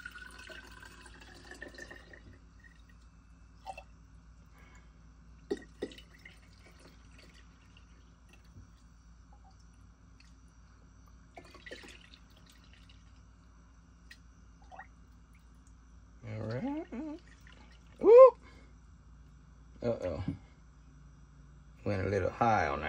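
Sumac berry drink poured through cheesecloth, giving a few short bursts of dripping and trickling liquid in the second half, close by and moderately loud against quiet outdoor background with faint insects.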